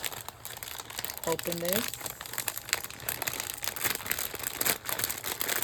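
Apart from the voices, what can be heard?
crinkling of plastic packaging being opened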